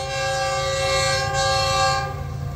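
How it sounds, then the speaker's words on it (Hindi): GEU-20 diesel locomotive pulling a train around a curve on a main line, sounding a loud sustained horn close by over the rumble of the engine and wheels. "काफ़ी विसलिंग के साथ यहाँ से गुजर रही है"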